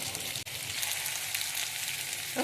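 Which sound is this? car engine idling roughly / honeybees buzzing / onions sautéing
onions sautéing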